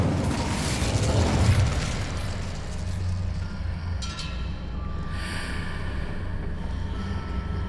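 An Incendio fire spell cast in the Hogwarts Legacy video game bursts out as a loud, whooshing blast that swells and then fades into a low, rumbling tail.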